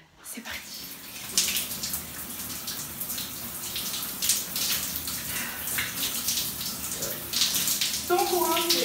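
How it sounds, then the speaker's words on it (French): Tap water runs steadily while a homemade face mask is rinsed off, a continuous splashing wash with small irregular bursts, close and moderately loud throughout. "Donc je vais rincer tout ça avec vous."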